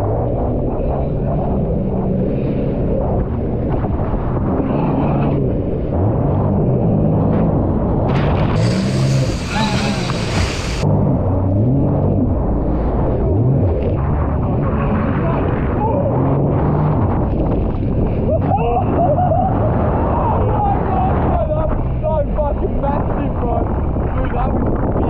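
A jet ski engine roars steadily while it jumps waves on the Gold Coast, with wind buffeting the microphone throughout and a brief louder burst partway through as it lands or splashes; speech is faintly mixed in.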